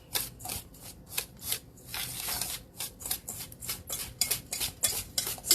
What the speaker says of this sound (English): Break that up. Stir it all up.